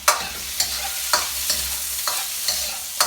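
Ginger and garlic fry in a pan for a Thai green curry, sizzling loudly beneath a regular rhythm of spatula scrapes roughly every half second, close up with nobody speaking.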